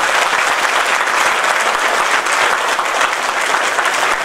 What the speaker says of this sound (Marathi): त्यांच्यासाठी एकदा जोरदार टाळ्या होत्या